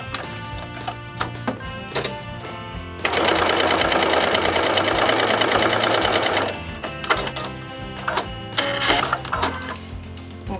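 A sewing machine stitches a quilt block seam in one steady, rapid mechanical run lasting a few seconds, framed by quieter clicks and handling noises before and after.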